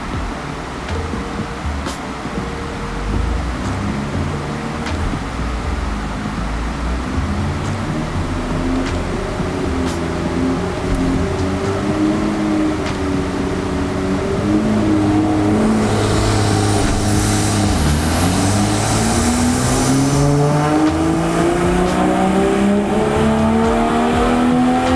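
A BMW G20 M340i with an aftermarket intake revs on a dyno, its steady engine drone climbing in pitch as the run builds toward the end, loud and close with no talking.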